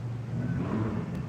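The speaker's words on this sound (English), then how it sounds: "Wow, that is some sound. It's probably a heavy bike." A heavy motorbike engine revs on a London street, a loud, rough mid-pitched growl that swells and holds briefly, fairly close, with no voices over it.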